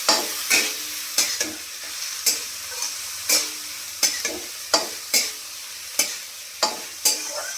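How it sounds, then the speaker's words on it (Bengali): Onions sizzle in a pan while a spatula scrapes and stirs them in regular strokes, about two per second. A steady hiss of frying continues close by between the strokes. "এটা পেঁয়াজটা ভাজা হোক ভালো করে"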